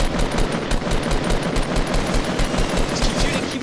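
Rapid automatic gunfire rattles through a shooter video game match, dense repeated bursts in a steady rhythm, loud and close, with faint voices underneath.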